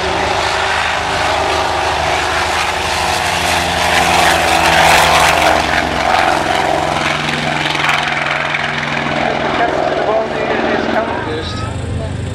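WWII-era warbird propeller plane, a TBF Avenger, taking off at a beach airshow, its loud, steady engine drone and propeller roar dominating for the whole stretch, swelling toward the middle and then slowly receding.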